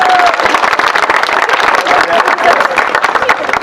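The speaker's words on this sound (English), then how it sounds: "deserve a huge round of applause" Audience applause at a heritage group's time capsule dedication ceremony in West Bridgewater: steady, dense clapping filling the whole stretch, fairly loud and close, with crowd noise and a few voices mixed in.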